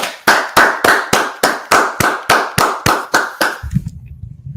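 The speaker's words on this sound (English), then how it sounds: "let's clap it up" Ten sharp, evenly spaced claps ring out loud and close, followed by a brief low rumble as the rhythm ends.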